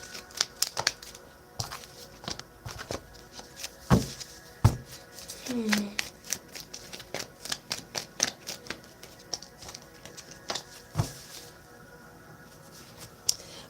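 Tarot cards being shuffled during a live tarot reading, a run of soft riffling flutters and sharp clicking snaps of card edges, close and moderately quiet, with bits of talk between.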